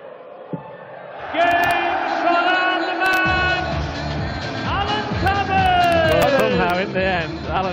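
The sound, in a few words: darts crowd building up noise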